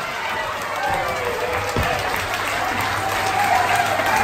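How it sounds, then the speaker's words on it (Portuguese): Crowd at a village anniversary festival in Agualva de Cima gives a big round of applause, a dense wash of clapping mixed with faint cheering and crowd murmur, sustained and even throughout. "Uma grande salva de palmas para a Algarvia Marrafada"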